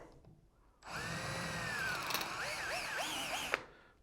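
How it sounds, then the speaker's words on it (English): A power drill whirs steadily for a few seconds, its pitch wavering as the bit drills out the center of the material, then cuts off abruptly. "Now I've got a drill bit, and I'm just going to drill the center of that out."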